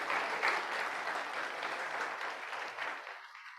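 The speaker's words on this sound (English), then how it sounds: "I want you to clap for them" A church congregation at a Sunday morning service claps together in a warm, dense burst of applause that carries for a few seconds and then fades out to quiet.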